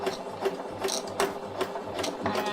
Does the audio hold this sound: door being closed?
no